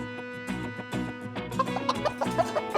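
Farm chickens cluck in short bursts, several nearby hens making repeated clucks and soft squawks in an uneven rhythm, fairly quiet, with no talk.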